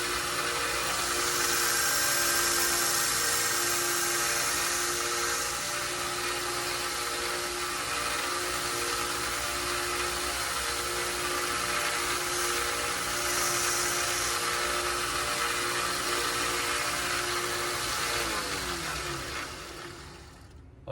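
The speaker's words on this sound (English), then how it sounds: "then I'll use the Dremel on the rest" A Dremel rotary tool sands Micarta knife scales for a lockback, giving a loud, steady high-pitched whine that runs continuously for about twenty seconds with slight shifts in pitch and fades at the end.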